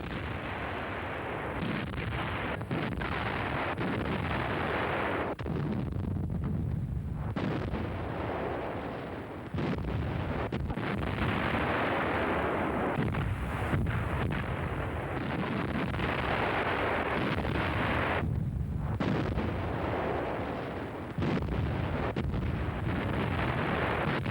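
German World War II heavy artillery, towed behind an 8-ton half-track, fires during Operation Barbarossa in a dense run of booming blasts and rumbling bursts. Wind buffets the recording throughout.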